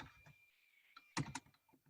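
Computer keyboard typing in bursts of clicky keystrokes, loudest in a short cluster near the end, faint and close with no talk.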